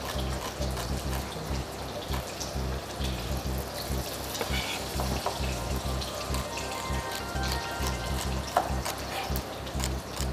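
Celery and other ingredients for a lamb shank dish sizzle steadily in a frying pan, a dense, continuous crackle close by, with no one speaking.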